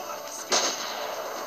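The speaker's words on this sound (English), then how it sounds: "the gunshots really, really suck. I'm assuming he's using a sniper rifle." A sniper rifle fires in the video game Spider-Man: Shattered Dimensions during a fight with Kraven, one sharp booming shot standing out over a steady game background.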